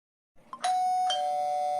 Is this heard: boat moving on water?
no